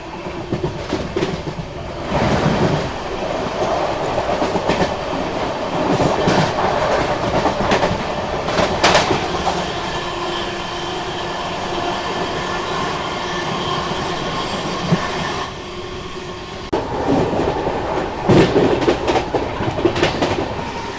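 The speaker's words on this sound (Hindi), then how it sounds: "अब अपनी क्रॉसिंग होने वाली है ग्वालियर बरौनी स्पेशल ट्रेन से जो कि WG9 के साथ आ रही है।" A Gwalior Barauni special train hauled by a WG9 locomotive passes close by the Mahabodhi Express, giving a loud rumbling rush with clattering wheels, squeals and sharp bursts, easing briefly before surging again.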